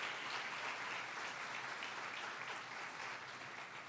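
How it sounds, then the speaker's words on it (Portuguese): Audience at a national judiciary communication conference breaks into steady, dense applause that fills the room at an even level throughout, with no voices over it. "uma salva de palmas."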